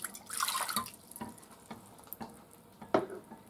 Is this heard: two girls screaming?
no